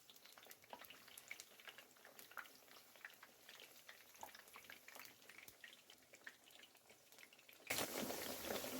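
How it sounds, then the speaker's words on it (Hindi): Eggplant slices frying in hot refined oil, soft scattered crackles and pops sizzling quietly throughout, with a louder burst of sizzle near the end. "तो हमने एक एक करके बैगन के सारे स्लाइसेस को ऑयल में ऐड कर दिया है। अब हम इन्हें लाइट गोल्डन होने तक के फ्राई कर लेंगे।"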